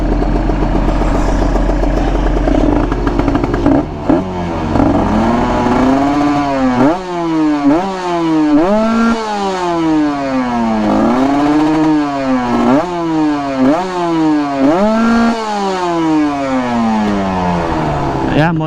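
A motorcycle engine revved hard, close and loud, with about a dozen quick throttle blips that each rise and fall in pitch over a steady idle.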